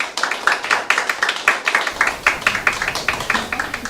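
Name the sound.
audience applause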